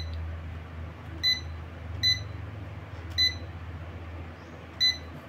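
Four short electronic beeps from a digital multimeter's continuity buzzer, spaced about a second apart, ring out over a low steady hum during fuse testing on a Sharp inverter refrigerator main board.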